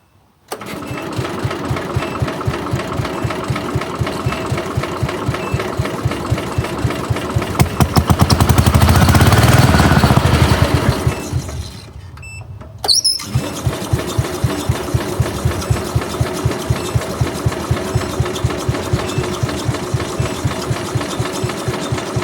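A tractor engine, newly acquired and balky, runs with a steady rapid chugging idle that swells into a louder roar, drops away briefly, then catches again and settles back into the same even, close-up idle.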